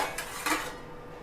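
A metal lid clinks onto a steel pot of water set over a gas flame for steaming modak, giving two short, close clattering knocks, the second louder, then quiet.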